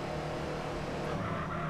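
In-game car in GTA San Andreas: a steady, loud engine drone close by, with a faint hint of tire noise, running continuously without talk.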